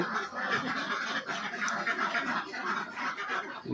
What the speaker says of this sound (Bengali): আমার এই খামারে হাঁস আছে দুইশো পঞ্চাশটি